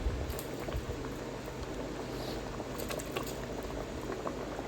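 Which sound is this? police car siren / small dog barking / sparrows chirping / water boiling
water boiling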